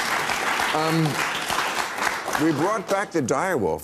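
Audience applause at a political talk show, a steady broadband patter running under a voice speaking throughout, loud and close.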